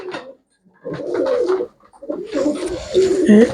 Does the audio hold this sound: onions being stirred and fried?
no